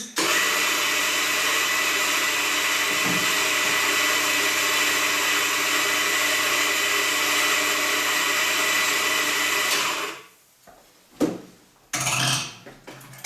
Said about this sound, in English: We first grind some coffee.